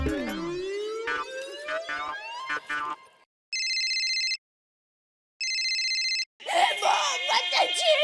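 An electronic phone ring sounds in two long bursts separated by silence, preceded and followed by lively music and sound effects.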